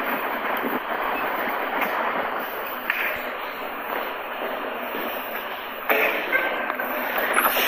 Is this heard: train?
yes